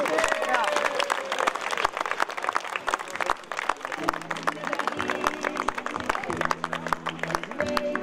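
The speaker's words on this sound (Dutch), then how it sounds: "Mag ik een heel groot applaus voor DVG uit Amsterdam" Crowd applause at an amateur football club tournament prize ceremony, a dense, steady patter of many hands with some cheering and a public-address voice mixed in.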